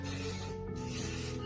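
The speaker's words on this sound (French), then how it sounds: "Je vais sprayer un peu." Non-stick cooking spray hissing from an aerosol can into a muffin tin, one continuous close spray burst lasting the whole moment.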